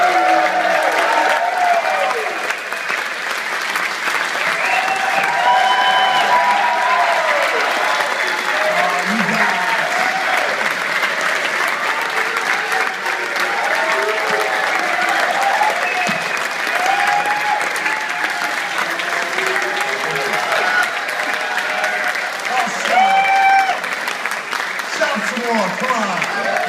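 Large crowd at a live wrestling talk event in Toronto applauding steadily and loudly for nearly half a minute, a dense continuous wash of clapping with scattered voices and a few whoops mixed in.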